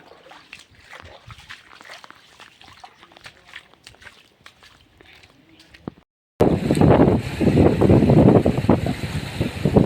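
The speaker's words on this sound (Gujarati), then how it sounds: "જુઓ જોરદાર વરસાદ હો" Heavy rain pouring outside a house, with water running in the yard. Quieter sounds and a voice come first, then a loud, roaring downpour with splashing takes over abruptly and continues to the end.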